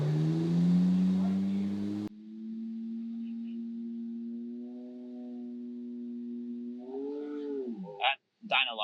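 Supercharged 4.1L Porsche 997.1 engine running on a dyno, a steady tonal whine that holds then climbs sharply near the end before cutting off, after a brief burst of louder noise at the start.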